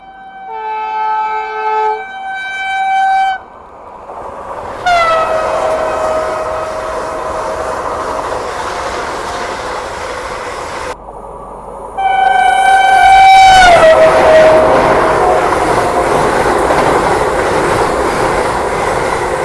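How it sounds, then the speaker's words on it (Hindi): Vande Bharat express overtaking the Rajdhani Express in India: loud blaring train horn blasts up close, over the rushing roar and rail clatter of the passing trains, with a second long horn later. "Vande Bharat overtakes Namma Rajdhani express."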